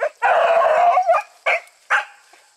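A beagle on a hot rabbit track giving a long drawn-out bawling bark followed by two shorter sharp barks, loud and close, with no talking.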